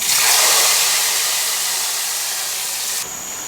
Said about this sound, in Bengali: বাগারটা ঢেলে দিচ্ছি